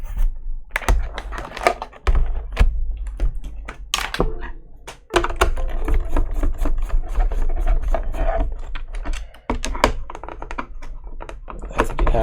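Rapid typing on a Kinesis Advantage keyboard retrofitted with Cherry ML switches, dense loud clattering keystrokes with heavier thunks and brief pauses, close up and continuous, no talking.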